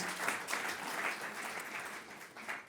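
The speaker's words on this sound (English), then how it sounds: "Just a round of applause to both Sarah and Ellen." Audience applause at the IUSA 2023 awards ceremony, a steady wash of clapping from a large crowd that holds at even loudness throughout, slightly distant, with no one speaking over it.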